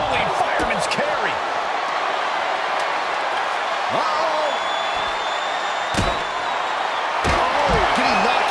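Wrestling slams from a rolling fireman's carry in WWE 2K24 during a women's Money in the Bank ladder match, several heavy thuds against steady crowd noise and game sounds, with a commentator talking over them.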